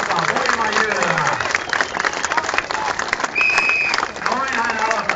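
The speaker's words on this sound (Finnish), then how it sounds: "annetaan hänelle raikuvat aplodit" A crowd applauds and cheers at a strongman competition in Eura, Finland, with steady clapping throughout while an announcer talks over it.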